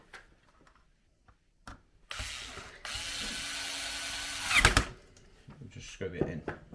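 A power drill drives a screw into an RC model tractor part, whirring steadily for a few seconds, straining and rattling as it bites in, then stopping; faint handling noises before and after.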